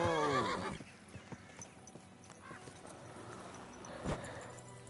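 A horse neighs loudly at the start, followed by soft clip-clopping hooves and another brief whinny later, fairly close, in the video game Kingdom Come: Deliverance II.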